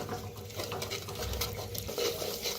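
Peanuts being dry-roasted in a clay pot, giving a steady crackly patter and scraping of stirred seeds, close and moderately loud, with no talking.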